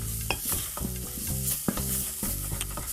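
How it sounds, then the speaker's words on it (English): Spices toasting in hot oil in a pan for chili, a loud, close sizzle with rapid crackles and a few sharp pops and scrapes as they are stirred. "what we're doing is toasting these spices and releasing their flavors"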